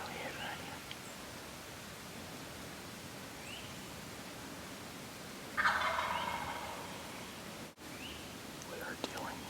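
A wild turkey gobbles on public land in the early morning, a short burst standing out from soft outdoor hiss and quiet whispering.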